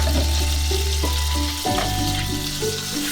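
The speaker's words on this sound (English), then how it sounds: "let's go dump this into our oil. See? And it's going to sizzle away" Food crackles and sizzles steadily in hot oil, loud and close, with a low hum beneath and no talking.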